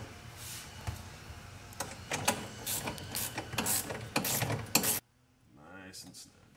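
A wrench tightens a bolt during a shifter install on a Polaris RZR, a series of close metallic ratcheting clicks and clanks in irregular bursts that stop abruptly, followed by a voice speaking.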